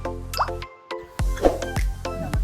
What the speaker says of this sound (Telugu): ఎసరు మరుగుతుంది కదండి